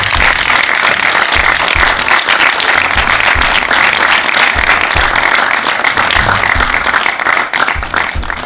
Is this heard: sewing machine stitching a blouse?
no